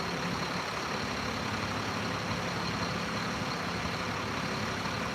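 Engines run in the background, a steady low rumbling drone like idling trucks or buses that stays constant and fairly faint throughout, with no speech.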